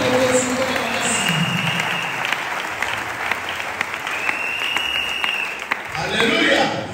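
A church congregation claps steadily and loudly through the whole stretch, a dense wash of applause with voices mixed in beneath it that swells slightly toward the end.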